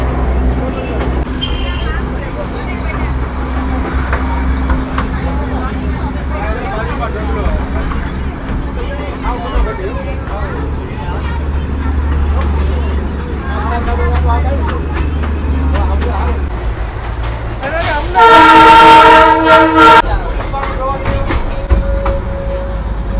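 The Darjeeling toy train rumbles and clatters along on its joy ride from Darjeeling to Ghum past roads and houses, with a steady low engine drone, passengers chatting nearby and a loud whistle blast near the end.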